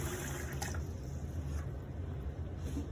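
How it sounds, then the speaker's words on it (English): Water running steadily into a cooking pot to cover rice, a continuous close gurgling fill lasting the whole few seconds with no talking. "we're gonna fill up the pot with about 2 cups of water"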